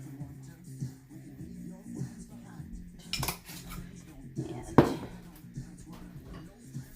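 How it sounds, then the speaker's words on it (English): Roasted vegetables with fennel, seasoned with pepper and garlic salt, are stirred in a pan, giving a couple of sharp utensil clanks and scrapes over a low, steady background hum. "I guess I'm not really tossing them, but stirring them"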